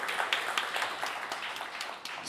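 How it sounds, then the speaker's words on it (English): Live applause from a studio audience after a band's performance, a dense patter of many hands clapping at a steady level, moderately close, fading slightly near the end. "how about we get one more round of applause for Naomi McMahan"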